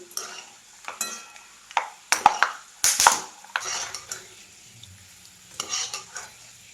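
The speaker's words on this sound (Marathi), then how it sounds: "हे शेंगदाणेही मी छान असे तळून घेणार आहेत" Peanuts frying in oil in a kadhai for a crisp papdi snack, with intermittent stirring scrapes and clinks of a utensil against the pan over a light sizzle, close and moderately loud with quiet pauses between strokes.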